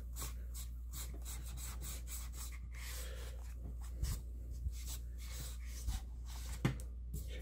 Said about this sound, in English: go over it again with the microfiber cloth